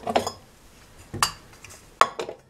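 A metal cooking pot for making basbousa is handled in a kitchen, giving four separate close clanks and knocks spaced over a couple of seconds, with no speech.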